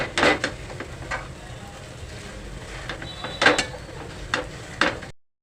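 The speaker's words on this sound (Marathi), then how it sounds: "आपल्याला स्मॅशरने हे मऊ करायचं आहे स्मॅश करायचं आहे" A masher mashing softened onion and tomato for pav bhaji in a pot, with several sharp clattering thuds spaced irregularly over a quiet background, close and moderately loud.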